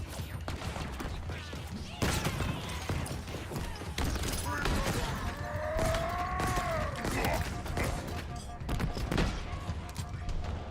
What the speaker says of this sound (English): That stun grenade is fantastic. I'm guessing that's a disruptor grenade.